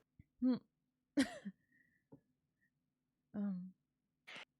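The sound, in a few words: coughing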